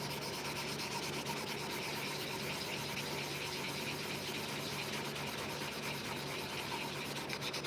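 A knife blade is rubbed across fine-grit sandpaper while being polished, a continuous steady scratchy rasp at low level with a faint hum in the background, unbroken and with no talk.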